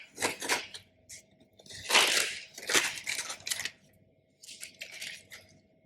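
A stencil peels off a painted wood piece in several crackly, tearing bursts separated by brief pauses, close up and fairly quiet, with no talking.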